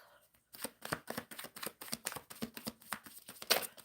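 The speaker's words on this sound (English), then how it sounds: "Shuffling for Jazz." Tarot cards shuffled by hand in a steady run of riffling, slapping bursts, close and fairly quiet, after a brief silent start with no talk.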